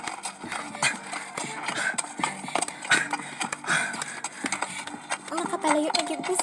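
A horse's hooves clip-clop in a steady, uneven patter as it is ridden along, close by, while people talk over the hoofbeats.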